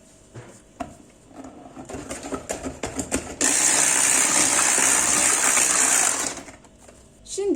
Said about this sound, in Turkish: Mikserle tekrar çırpıyorum.